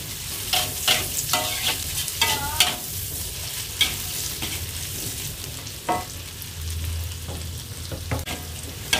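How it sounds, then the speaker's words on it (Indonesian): Chilies and spice paste stir-fried in oil, a constant crackling sizzle punctuated by irregular scrapes and knocks of a spatula against the pan, close by. "Percabeannya kita masukkan. Kita tumis lagi, nyampe bumbunya lagi ya."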